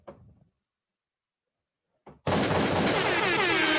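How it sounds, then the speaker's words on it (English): A gunshot sound effect fired from a button during a live sprint-culture stream: a short faint blip, a long silence, then a sharp burst that opens into a loud, sustained crackling blast to the end. "Did my gunshot just go off?"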